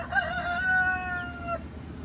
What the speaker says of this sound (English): I believe he's a rooster because I think he's trying to crow